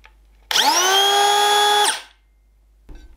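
A Makita DKP180 cordless planer whines up quickly to a high, steady motor pitch, runs for about a second and a half, then winds down fast to silence, followed by a faint clunk.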